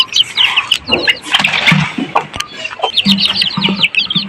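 Several local-breed chickens cluck and chatter close by, a busy overlapping flock with short repeated calls throughout.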